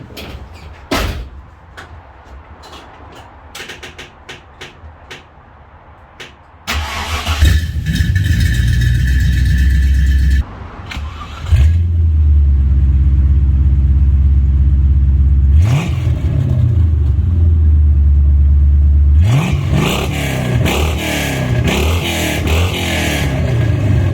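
A few clicks and clunks, then a Ford Capri V8 engine with a newly fitted exhaust fires up and idles loudly with a deep throb, revving up several times with rising, raspy exhaust bursts.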